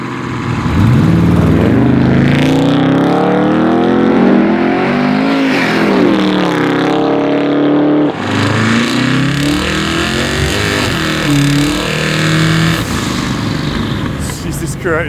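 A 1,600-horsepower twin-turbo Chevelle restomod accelerates hard on the road, its engine note rising loud and sustained through repeated climbing sweeps, with an excited voice talking over it.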